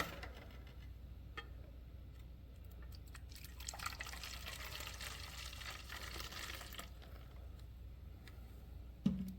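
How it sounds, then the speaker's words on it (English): Mr. Beer craft beer from a home brewing kit being poured into bottles, a quiet steady liquid stream with faint drips and a sharp clink near the end. "so I'll just pour this into these"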